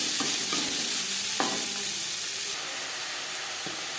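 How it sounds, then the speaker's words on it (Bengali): Chopped onion sizzles steadily in leftover oil from frying fish, a constant close hiss with a few soft stirring scrapes, the frying dropping slightly quieter midway, no voices. "মাছ ভেজে নেওয়া তেলে দিয়ে দিলাম পেঁয়াজ কুচি"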